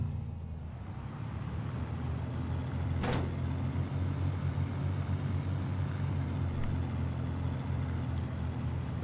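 A truck engine idles in a low, steady rumble in the survival game Miscreated, with a couple of brief clunks and clicks on top.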